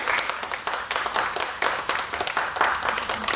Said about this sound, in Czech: To je hezký, to bych dal taky potlesk teda.